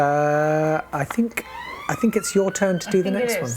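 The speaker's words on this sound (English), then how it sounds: "Sorry about the sirens," A siren wails steadily near a farm, then keeps rising and falling in the background while a person talks over it.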